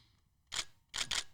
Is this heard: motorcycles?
no